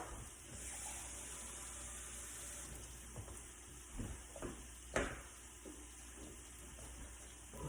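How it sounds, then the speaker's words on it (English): Water pours into a pan of walnut taco meat on the stove, a soft steady flow with a few faint splashes and clinks, fairly quiet. "I'm going to add another half a cup of water."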